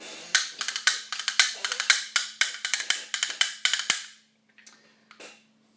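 Bones, a hand-held percussion instrument, played in quick rhythmic clicking rolls and triplets for about four seconds, loud and close, followed by a couple of softer scattered clicks before stopping.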